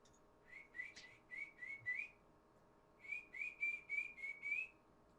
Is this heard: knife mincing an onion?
no